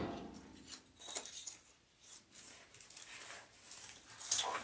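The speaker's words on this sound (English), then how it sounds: "So let me cut this down." Scissors snip through material for a red, white and blue door swag, cutting it into smaller pieces with several crisp, irregular cuts and rustling between them, close and fairly quiet.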